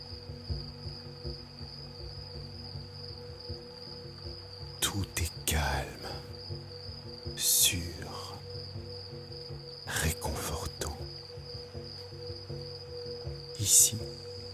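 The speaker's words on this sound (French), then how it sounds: "Un chant de grillons au loin." Steady, high-pitched crickets chirp in the distance, with a few soft knocks and rustles breaking the quiet now and then.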